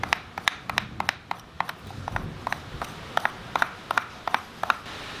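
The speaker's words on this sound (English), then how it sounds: "cutting into the top surfaces of the wood" A carving tool cuts grooves into the top surface of a wooden sword handle for a falchion: a steady run of crisp, close scraping ticks, roughly three or four per second, over a soft rubbing noise.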